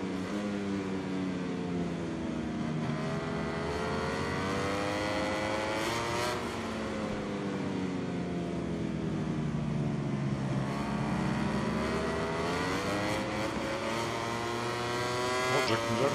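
Ducati motorcycle engine racing in the video game MotoGP 21, a continuous loud high-revving whine whose pitch climbs and falls through gear changes and corners, filling the whole stretch without talk.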